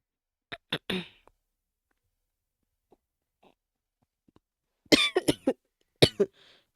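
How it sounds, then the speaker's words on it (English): A person coughs heavily while sick: a quick burst of three harsh coughs near the start, a long quiet pause, then a second loud, rough cluster of coughs close to the microphone. "Coughing hella crazy"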